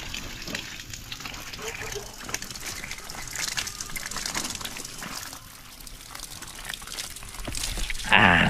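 Rainwater rushes and gushes steadily through a flooded vegetable garden after heavy rain. The flow is close and continuous, and people talk faintly underneath.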